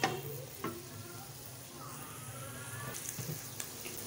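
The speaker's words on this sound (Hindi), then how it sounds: "प्याज हमारे अभी वाइट ही हैं, हम इन्हें हल्का ब्राउन करेंगे तकरीबन 2 मिनट तक" Onions frying in a pan while being stirred, on their way from white to light brown; a steady low sizzle runs throughout with a few scraping stir knocks, alone and without talk.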